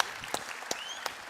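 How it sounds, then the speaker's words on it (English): Applause from an audience at a charity film awards ceremony, a steady patter of clapping with a few sharper claps standing out, fairly quiet and without talk. "Round of applause."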